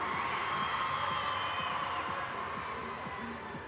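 School students from William Pratt cheering in an arena crowd at a short track speed skating championship in Calgary, a sustained roar of distant shouts and whoops that slowly fades.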